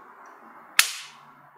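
A single sharp pistol shot cracks loud and close on a shooting range, with a short decaying tail fading over about a second.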